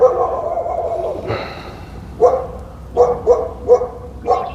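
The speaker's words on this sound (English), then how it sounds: "Neighbor's dog." A dog barks several times, single sharp barks spaced irregularly, fairly close, after a brief stretch of muffled voices.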